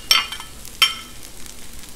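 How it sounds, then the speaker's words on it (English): Chopped red bell pepper and sweet onion on a hot Blackstone flat-top griddle, giving two sharp bursts of sizzle as the vegetables are stirred or scraped, with a low frying crackle between them. "So boom, we got that stuff frying up."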